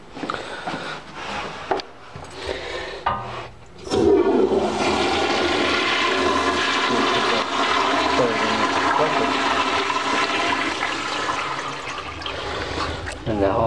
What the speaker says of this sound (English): I'm trying to get this toilet done so I can flush the toilet with the blue chemical.